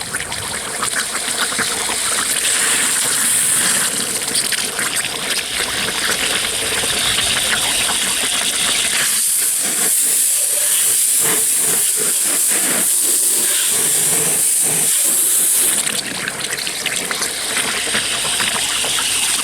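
Boiling water steams out of a red-coated fuel tank with a loud, continuous hiss and gush, briefly thinning to sputtering bursts midway before the full steady roar returns.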